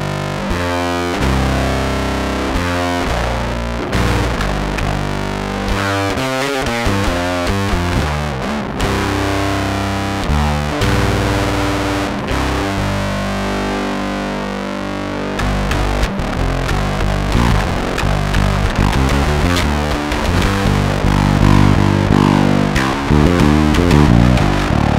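Electric guitar through a DOD Supra Distortion pedal, heavily distorted, thick and buzzing, playing loud continuous chords and riffs that smear into a harsh, noisy, white-noise-like fuzz.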